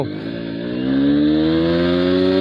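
A Honda Xblade motorcycle accelerates through its gears, the engine's loud, steady drone climbing smoothly in pitch and swelling in volume, with no voices over it.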